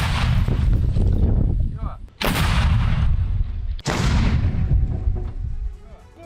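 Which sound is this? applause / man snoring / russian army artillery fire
russian army artillery fire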